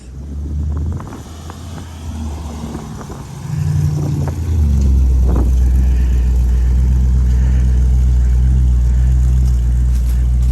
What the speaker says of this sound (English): '64 Impala, he's going riding.